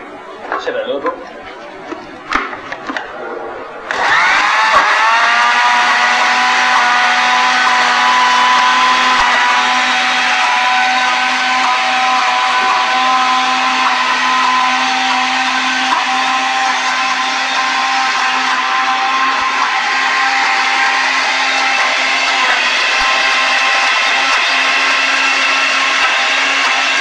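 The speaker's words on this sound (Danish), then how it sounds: "Jeg stopper lige blenderen, sikrer mig, at kanterne er renset." A kitchen blender running while making pesto, a loud, steady whirring drone that starts after a few seconds of clattering and continues unbroken, with a person talking over it.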